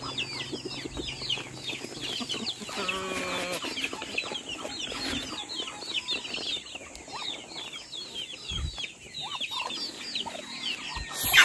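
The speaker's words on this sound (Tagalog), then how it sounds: "sinilip ko lang yung mga chicken natin at saka yung mga bibi, mga bagong pisa" Rhode Island Red chickens clucking in a flock, repeated soft clucks and chirps overlapping at close range, with a brief flutter of wings and a steady background hum.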